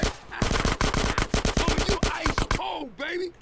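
Rapid automatic gunfire in GTA San Andreas, a dense burst of closely spaced loud shots for about two seconds, followed by a few whooshing effects and a brief voice.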